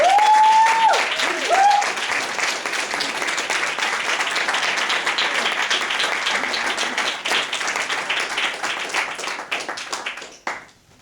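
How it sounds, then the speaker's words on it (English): Audience applause for Lonnie Ray Atkinson as he comes up, steady loud clapping from a crowd lasting most of the span, with a brief voice at the start and a fade at the end. "Please give a big round of applause for Lonnie Ray Atkinson as he comes."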